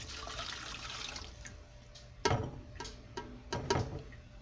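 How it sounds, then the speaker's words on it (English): A yeast mixture pours and splashes into a bread pan, followed by a few soft knocks and taps, close by and quiet. "we're just going to pour it on in"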